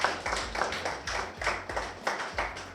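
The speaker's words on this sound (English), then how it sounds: "Let us give her a round of applause" An audience claps for Francine in a rhythmic, fairly even run of strong beats, about three per second, fairly close and without talk.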